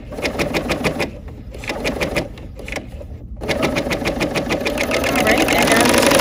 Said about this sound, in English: now I'm just gonna sew off